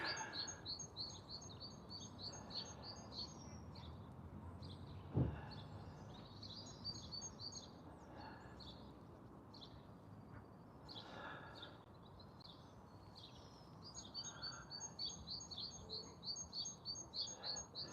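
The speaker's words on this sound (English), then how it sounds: "I think we've got a blackbird up there, and we've got there was a magpie." Birds sing in a park, including a blackbird and a magpie, with repeated high chirps and song phrases over a faint outdoor background and one brief knock.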